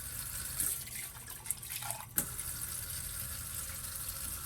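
Water pours steadily into an opened can of diced tomatoes while chili is being made, a continuous splashing rush with a couple of brief clinks and no talking.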